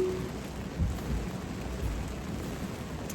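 Rain during a 2025 Tesla Full Self-Driving 13.2.9 drive, a steady wash of downpour around the car with a low rumbling undertone, continuous and even.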